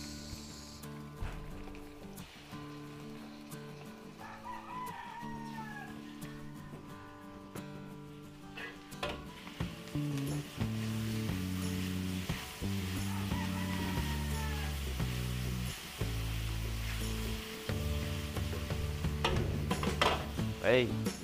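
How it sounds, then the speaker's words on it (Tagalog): Tomato sauce sautéing in a pan for Filipino beef caldereta, with a steady sizzle and occasional stirring scrapes under background music, while a rooster crows in the distance. "Gisa natin yung tomato sauce."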